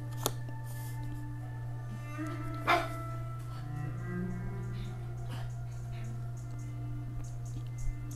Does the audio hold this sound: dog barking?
yes